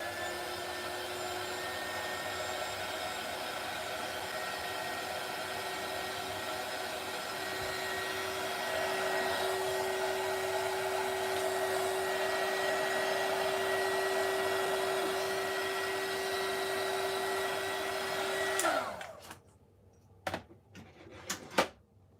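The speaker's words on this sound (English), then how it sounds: "pulling my heat gun off its little hook" A heat gun drying craft paint blows with a loud, steady whirring roar for most of the clip, then switches off, leaving a few close clicks and knocks.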